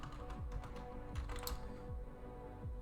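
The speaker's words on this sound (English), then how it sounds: "Beginning to not like this keyboard." Quiet, irregular clicking of keys typed on a computer keyboard, a quick run of taps picked up close by with no talk over it.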